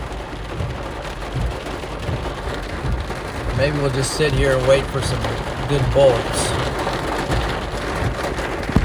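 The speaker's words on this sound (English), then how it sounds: "Here comes the storm. We're not going to see much but a bunch of rain now." Heavy rain from a supercell storm on the Nebraska–Kansas border pounds steadily on a car, a loud continuous wash close by with someone talking briefly over it.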